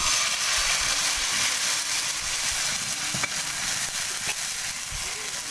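Egg paratha batter hits a hot ghee-greased tawa and sizzles steadily, a close, continuous frying hiss with small crackles throughout and no talking.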